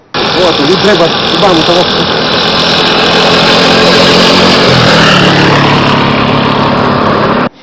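Motorcycle engines at a road security checkpoint in Chad, a loud steady rumbling drone with idling and revving as bikes pass close by, continuous throughout.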